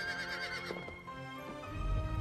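A horse neighs in Zelda: Breath of the Wild, a loud wavering whinny rising and falling over about a second, followed by lower snorting and faint hoof clatter with a rumbling background.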